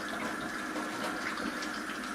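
Warm water runs steadily from a tap in a continuous hissing stream, close by, with no voices.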